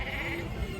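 Sheep or goats at a crowded Kyzylorda livestock market bleat in a short, continuous call over a dense, noisy background of the bazaar.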